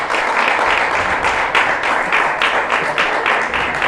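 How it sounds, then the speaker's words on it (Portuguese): A church congregation applauds, a sustained wash of many hands clapping with slightly pulsing rhythmic surges, close and loud throughout. "as palmas do Senhor"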